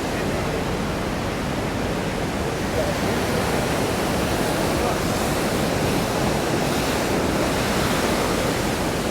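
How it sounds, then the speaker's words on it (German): Massive rushing floodwater pours steadily past a water wheel in Switzerland, a loud, dense, continuous roar with no pauses, close to the microphone and heard alone without talk. "Die Wassermassen sind ja echt beeindruckend."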